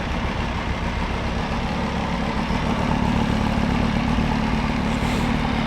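A cold F3 motorcycle engine with about 900 miles on it and an aftermarket muffler idles after a cold start, a steady, dense, fairly loud low rumble that holds even throughout, with no talking.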